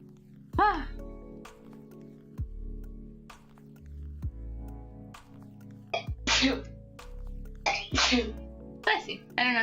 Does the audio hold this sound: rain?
no